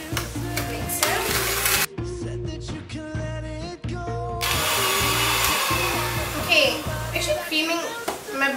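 An electric hand mixer creams fairly hard butter with sugar for rainbow cupcakes, a loud, close whirring drone with a rhythmic pulsing beat, cutting out briefly midway before running on steadily.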